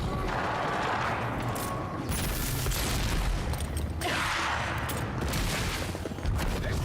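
Gunfire crackles through a battle in the video game Avowed, with bursts of rapid shots and booms layered over a dense, noisy soundscape. The mix is fairly quiet overall.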